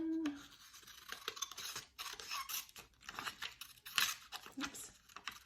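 Scissors snipping through paper in a quiet room, a run of short, close crisp cuts and rustles with brief pauses between strokes.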